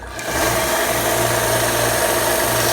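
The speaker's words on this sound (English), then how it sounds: "I'm going to take it over to the sander here" A sander grinds steadily on a pistol magazine being cut down, producing a continuous loud, close whirring roar with no pauses.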